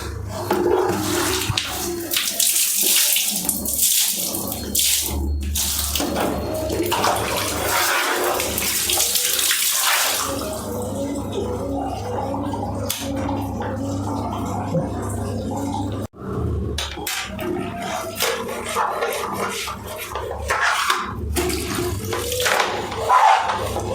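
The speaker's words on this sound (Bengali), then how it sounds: "এগুলো এইভাবে অল্প অল্প করে আপনার সার্ফের জল দিয়ে ভালো করে ওয়াশ করে নিচ্ছি" Water splashing and running as removed air conditioner parts from a Samsung WindFree AC are washed little by little with surf detergent water at home, a steady close wash with brief pauses and occasional clatter.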